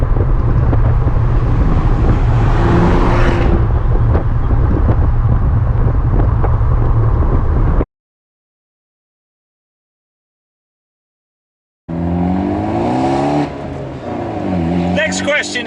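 Abarth 124 Spider in sport mode, a loud, steady engine drone with wind rush close to the microphone, cut by several seconds of silence and then resuming with the engine note rising and shifting.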